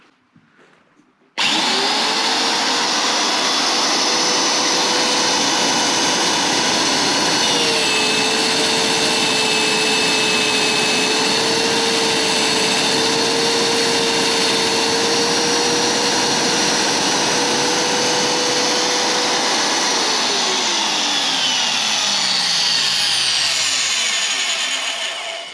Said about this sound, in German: Die Bolzen, die Löcher werden alle aufgefräst.